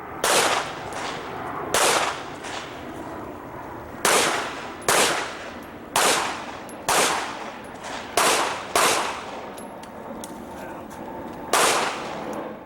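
Pistol shots ring out at an IDPA shooting match, sharp and loud, mostly in quick pairs with short pauses between strings, some sounding nearer than others.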